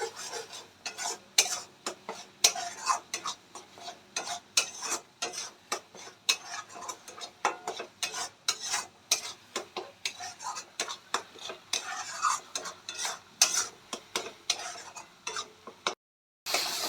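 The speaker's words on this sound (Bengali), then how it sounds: "এবার আমি পুরো মশলাটা ভালো করে কষিয়ে নেব যতক্ষণ না মশলা থেকে তেল ছাড়বো" A spice paste for chicken kofta curry is stirred and sautéed in a pan. A spoon scrapes and clatters against the metal in repeated rhythmic strokes over a low frying hiss, close up with no voices.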